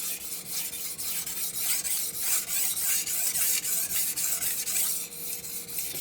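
Knife blade stroked across a 1000 grit whetstone, a close, rhythmic wet scraping with steady back-and-forth passes, alone and fairly quiet.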